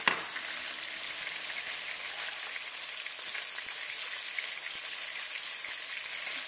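Catfish nuggets frying in a pan, a dense, even crackling sizzle that holds steady and close throughout, with no voices over it.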